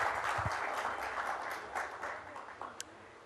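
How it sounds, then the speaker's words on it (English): Warm applause from a studio audience at a live budget roundtable, a steady dense clapping that carries through the whole stretch at moderate volume. "Ladies and gentlemen, a round of warm applause for our budget makers."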